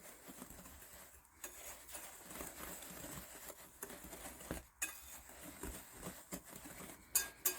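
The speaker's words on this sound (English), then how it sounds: "And then you're just going to whisk that together and get a good blend." A whisk clinks and scrapes against a bowl as baking soda and bath salts are blended, a quiet, uneven rhythm of light metallic taps and stirring with a few sharper knocks.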